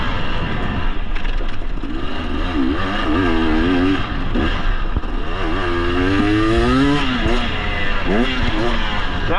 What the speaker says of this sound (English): So when you hear me riding the power band like this,